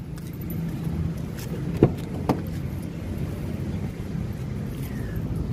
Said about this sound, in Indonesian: Nih, sekarang kita coba buka mobil. Kita buka mobil, sekarang kita coba masuk ke dalam.